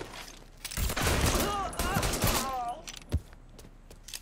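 Gunfire in the video game Mafia III, a dense burst of rapid shots and fusillade with bright ricochet-like whines, followed by a single sharp report, mixed with shouting voices.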